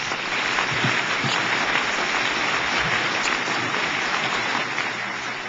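Sustained applause from a symposium audience for Ambassador Robert Joseph, a steady, dense wash of clapping that holds at an even level throughout.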